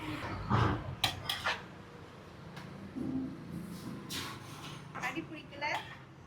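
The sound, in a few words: mixing biryani in a large pot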